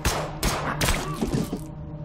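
Rapid gunfire from They Are Billions, several loud close bursts of shots in quick succession with sharp cracks and low thumps, ringing out over a couple of seconds.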